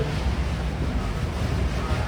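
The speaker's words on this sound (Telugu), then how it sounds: "ఫుల్ గాలి అయితే వేస్తుంది" Loud, buffeting rush of strong wind on a moving train battering the microphone, a continuous blustery roar with no voices.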